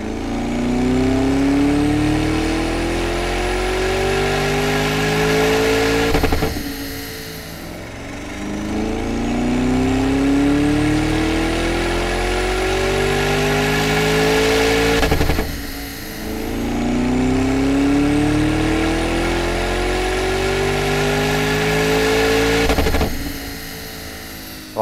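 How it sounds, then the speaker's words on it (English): A Lamborghini on a dyno runs through three full-throttle pulls, each rising steadily in pitch to a loud peak before cutting off sharply and dropping back toward idle. "we're running on the dyno and we have some numbers"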